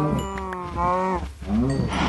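Cows in the Minecraft video game mooing close by: several short, tonal moos follow one after another in quick succession, clear and unmasked.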